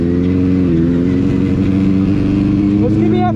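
A Benelli 600 motorcycle engine running loud and close, with a steady rumbling idle that rises slightly near the end while someone talks over it.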